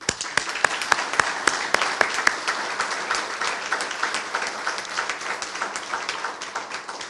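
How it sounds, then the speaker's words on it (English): At a Boy Scouts of America Scout of the Year award ceremony, an indoor audience gives sustained applause, with many hands clapping in a dense, even wash that stays steady across the room. "a round of applause."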